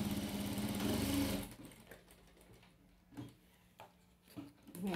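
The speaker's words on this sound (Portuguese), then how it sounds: "eu tô pregando essa fita aqui, ó" A sewing machine stitching ribbon onto a crib bumper runs in a steady, fast whirring burst for about a second and a half, then stops, followed by a few quiet clicks and rustles of fabric handling.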